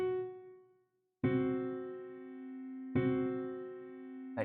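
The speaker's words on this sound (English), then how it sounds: "between the perfect 4th and the 5th lies the devil's interval" A piano sounds a tritone, the dissonant interval between the perfect fourth and fifth: one held note fades out, then the dissonant pair is struck and rings, and is struck again and left sustaining, close and quiet with no talking.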